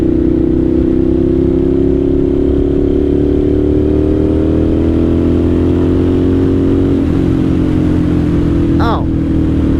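A 1998 Suzuki TL1000R motorcycle engine on the road in third gear, a loud, steady droning hum close to the rider that eases slightly in pitch, with a short rising rev near the end.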